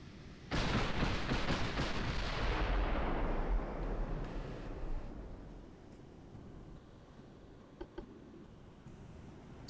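Battleship artillery shells fire in the naval video game Ultimate Admiral: Dreadnoughts, with a rapid volley of booming blasts that rolls into a long fading rumble, followed by a couple of fainter distant thuds.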